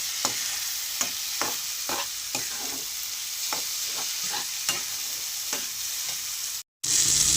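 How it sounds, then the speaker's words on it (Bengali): Already-fried vegetables being sautéed with spices in a pan for a dried fish curry, loud close sizzling with regular scraping strokes of a spatula, then a brief dropout before the frying resumes. "এবার মশলাগুলোর সঙ্গে ভালো করে আমি কষিয়ে নেব"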